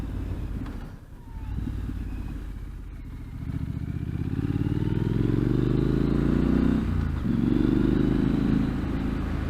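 Triumph Street Scrambler motorcycle riding along Redwood Road, its engine note droning close and steady, rising in pitch as it gathers speed with a brief dip midway before climbing again.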